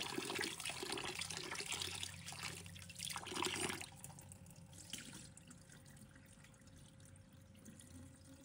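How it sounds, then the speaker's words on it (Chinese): Tap water runs steadily as ingredients are rinsed under the flow, a close, loud splashing stream for the first few seconds that then drops to a softer, even trickle in a sink. "用流动清水轻轻冲洗，冲去表面浮沫和杂质"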